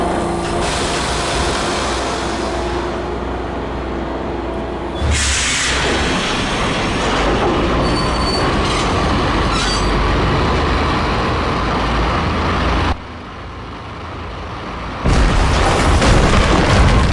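In the Max Payne Mobile action game, a train runs on rails with a dense, loud continuous rumble and clatter. Heavy booming surges and sharp changes in level punctuate the noise, and no one speaks.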